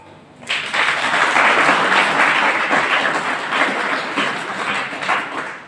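Students at a secondary school seminar break into applause, a dense burst of many hands clapping that starts abruptly, swells loud and holds before easing slightly.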